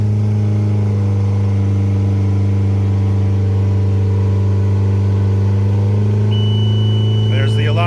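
A Mercury 115HP outboard motor drones steadily at about 2400 rpm throughout, a constant hum with little change, and a brief voice comes in near the end.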